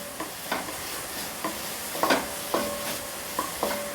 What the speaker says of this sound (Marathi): जरा गॅस कमी जास्त करून कांदा भाजून घ्यायचा.